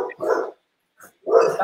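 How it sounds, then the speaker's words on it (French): Dogs bark in a home during a pastry-making session, two loud close barks with a faint yip between them. "C'est rien, c'est les chiens."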